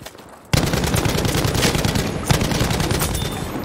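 A light machine gun opens fire in a video game, a sudden loud sustained burst of rapid shots that continues unbroken for several seconds.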